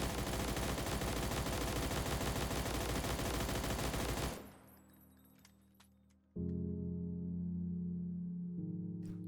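An M249 light machine gun fires a sustained loud burst in a video game for about four seconds, then cuts off into faint mechanical clicks and a low hum.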